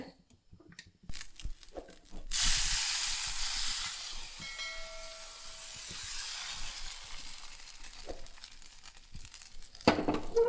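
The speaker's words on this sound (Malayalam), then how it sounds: "തീ ഒന്ന് കൂട്ടി കൊടുത്തിട്ടാണ് മാവ് ഒഴിക്കണത്" Appam batter hits a hot non-stick pan after a few soft clatters, then a sustained hiss and sizzle swells and slowly settles, fairly close and alone.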